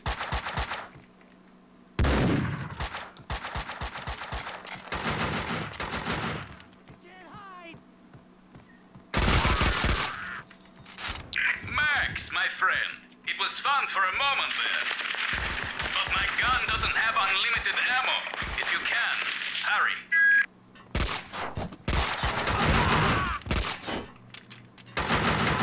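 Gunfire in the video game Max Payne 2, with repeated bursts of rapid shots spread over long stretches, loud and close, while a player talks between and over the shooting.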